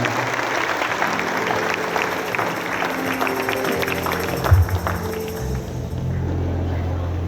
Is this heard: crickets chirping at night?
no